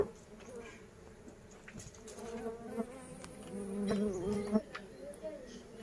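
Stingless honey bees buzzing around a hive box as the comb is cleared out, a close, wavering drone of many small insects with louder passes, with faint handling noises mixed in.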